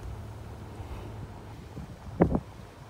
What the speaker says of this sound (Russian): еще ветер, сегодня холодно